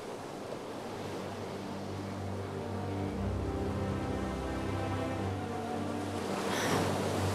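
Sea waves wash onto a shore in a steady, broad rush of surf, with wind noise and a low rumble beneath; no one speaks.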